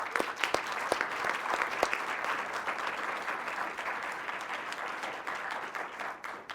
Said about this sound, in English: A round of applause for the Vilnius Night Office.